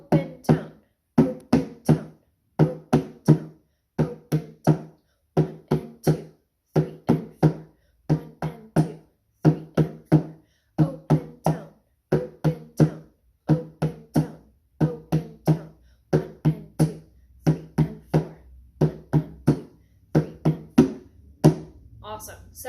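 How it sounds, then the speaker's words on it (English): Djembe struck by hand with open tones, a steady run of sharp, close, ringing hits in even rhythm, grouped in short phrases over about twenty seconds, with no other sound between strokes. "practicing just some open tones"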